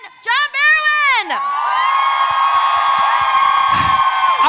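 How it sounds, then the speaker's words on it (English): Convention crowd at Wizard World Chicago 2016 screaming and cheering loudly for actor John Barrowman, a sustained roar of many voices with high shrieks and whoops, following an announcer's shouted introduction. "everyone, I want you to scream as loud as you can for Captain Jack Harkness, Malcolm Merlin, John Barrowman!"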